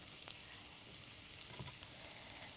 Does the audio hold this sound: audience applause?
no